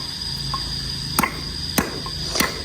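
Steel being hammered outdoors during workshop setup, heard as three sharp metallic strikes spaced about half a second apart over a steady insect-like background drone.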